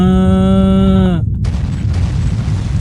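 In the Cabin Crew Simulator video game, an airplane explosion cuts off a steady droning tone with a sudden loud boom, followed by a dense rumbling roar that continues to the end.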